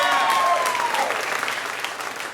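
A comedy show audience claps and applauds loudly, the applause fading slightly over a couple of seconds.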